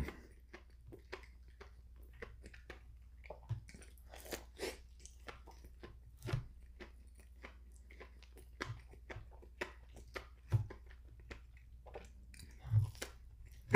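Close chewing and crunching of a chocolate sprinkle donut, a steady series of soft bites and moist mastication sounds with occasional louder crunches, no talking.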